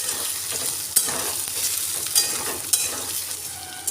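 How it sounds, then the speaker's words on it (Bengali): Boiled soybeans stir-fry in a little hot oil, with a steady close sizzle broken by several sharp scrapes and clacks as they are tossed in the pan, with no talking. "শুধু একটু তেলে নেড়ে নেব।"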